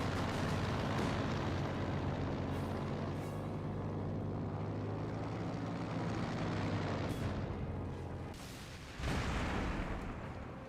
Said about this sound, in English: Aircraft does explode there.